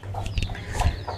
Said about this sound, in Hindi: हमारी जो मुर्गी है ना वो नीचे आई हुई है अंडों से उठ के